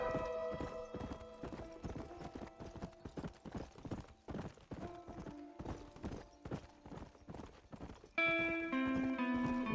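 Horse hooves clip-clopping steadily in Red Dead Redemption, a continuous rhythmic trot of sharp hoof strikes over game music tones, with a brief snort or whinny-like swell near the end.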